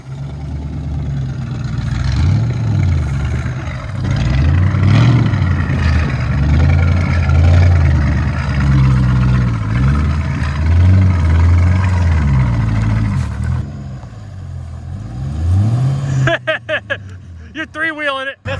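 Off-road C5 Corvette kart on stock suspension with sway bars removed, its engine droning loudly and rising and falling in revs as it lifts onto three wheels, with people talking over it throughout.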